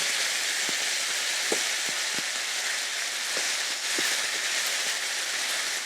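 Boneless beef short ribs pan-frying, a steady bright sizzle with occasional soft pops and crackles, close and continuous with no talking.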